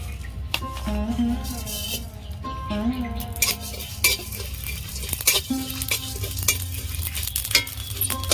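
Spices with dried red chillies fry in a pan, giving a steady near sizzle under frequent scraping stirs and sharp clinks of a utensil against the metal.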